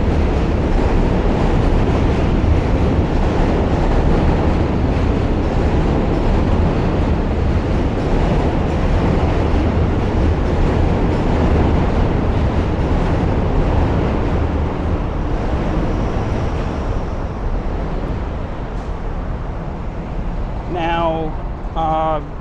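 A D train rumbles past close by on the Manhattan Bridge in New York, a loud continuous roar with rattling wheels that fades slightly near the end, ending in a few squeaky clicks.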